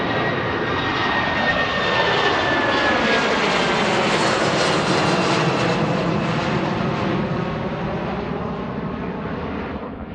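An aircraft departing Boeing Field in Seattle roars loudly overhead in the evening, a broad, sustained engine rumble with a falling whine and a Doppler sweep as it passes and slowly fades away, with no talking.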